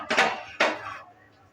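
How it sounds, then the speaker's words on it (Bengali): A metal kadai set down on a gas stove gives two quick clanks close by, each trailing a short ringing decay, with no talk. "আর একটা কড়াই বসিয়ে দিয়েছি।"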